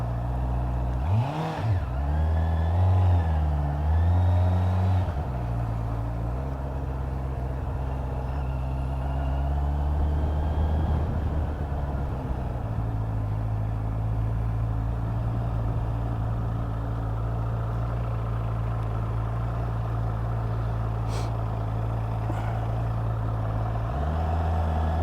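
A Honda CB650R's engine hums low and steady on a test ride, with a brief rev near the start and a constant drone underneath. Wind noise runs throughout, and no one speaks.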